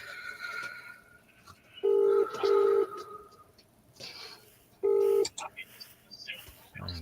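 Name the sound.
phone keypad tones while testing a phone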